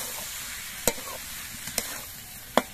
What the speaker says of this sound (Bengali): টমেটোগুলো তেলের মধ্যে দিয়ে বেশ কিছুক্ষণ নাড়াচাড়া করে রান্না করার পর